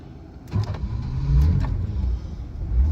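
Engine of a 1982 BMW E21 320 two-door automatic cranking and catching, settling into a close, steady low rumble after a short click and whir at the start, with no talk.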